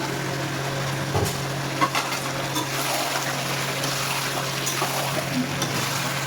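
Mutton frying in a pan as tomatoes are added and stirred in, giving a steady close sizzle with occasional scraping and clinks of the spoon, no talking.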